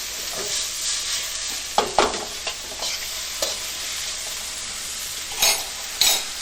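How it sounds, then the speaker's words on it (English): Onions and vegetables, salted to sweat, sizzle steadily in a pan for crawfish étouffée, with a few sharp clinks and scrapes of a utensil stirring against the pan. "So we're going to saute this, lower the heat just a little bit."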